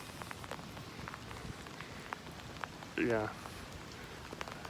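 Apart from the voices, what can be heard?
rain falling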